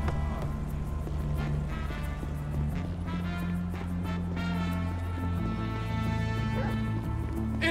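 A dog barks and yips repeatedly in short bursts in GTA 5, while being chased, over a steady droning background of game music and engine hum.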